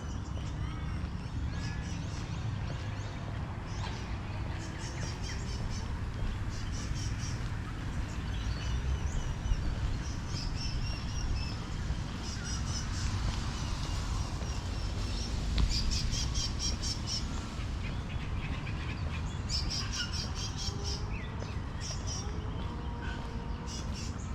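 Birds squawk and chirp around Tomato Lake, a walking trail in Perth, Western Australia, scattered calls rising repeatedly over a steady outdoor background hum.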